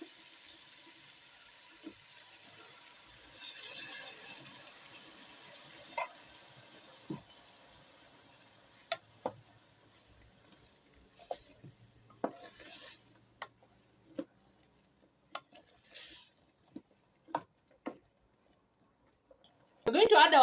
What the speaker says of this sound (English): So we are going to add our coconut cream